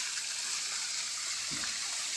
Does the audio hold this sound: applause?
no